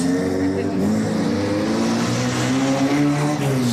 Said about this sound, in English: You can't beat driving a new car off the forecourt